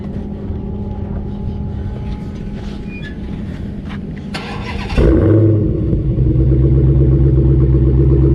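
A Dodge Challenger Hellcat engine, started by remote, cranks and catches after a quiet idle of background noise, then settles into a loud, steady running rumble close by.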